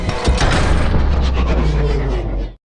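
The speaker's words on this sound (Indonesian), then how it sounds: "para zombie berhasil menggapai helikopter itu hingga membuat helikopternya terjatuh dan meledak" A helicopter crashes and explodes in a film scene, a loud booming blast followed by a rumbling, crackling roar that sustains for a couple of seconds before cutting off abruptly.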